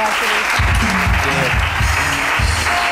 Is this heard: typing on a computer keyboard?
no